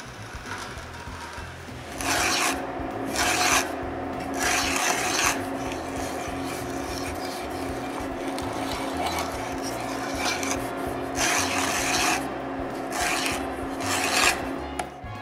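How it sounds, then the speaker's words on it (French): A hand tap cuts threads into a drilled hole in wood, producing rasping, grinding turns in bursts over a steady mechanical hum, close and moderately loud with no speech. "Je taraude le trou avec le même filetage que l'arbre de mon tour."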